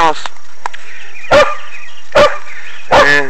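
A house dog kept behind a fence near goats gives three loud, sharp barks spaced about a second apart, close by, after someone speaks at the start.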